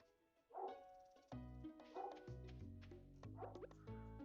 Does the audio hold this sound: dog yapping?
yes